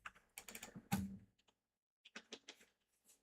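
Keys clacking on an ANSI-layout computer keyboard during a Hackintosh build, in two short bursts of quick, uneven taps with a pause between them, close and fairly quiet.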